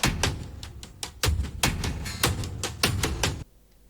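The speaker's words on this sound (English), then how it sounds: "it's a cinematic drum loop from the Cashmere pack." A punchy cinematic drum loop from a sample pack plays alone, heavy booming hits and sharp snappy strikes in a steady driving rhythm, ending abruptly.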